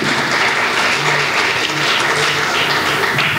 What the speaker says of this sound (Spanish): ustedes también se merecen un fuertísimo aplauso por estar hasta el final de esta